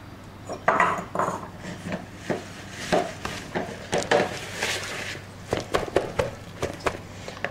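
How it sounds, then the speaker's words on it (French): Eggs worked into flour in a bowl for ham and fig financiers, a close run of rhythmic scraping and tapping strokes of a utensil against the bowl, fairly loud and uneven in pace. "Donc vous travaillez bien vos œufs avec votre farine"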